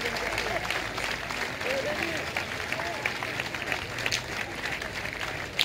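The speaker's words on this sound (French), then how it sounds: "Belle partie, hein, applaudie par le public" Spectators applaud a children's petanque final at the 2013 Marseillaise, a faint, steady patter of distant outdoor clapping with crowd murmur and a voice talking over it.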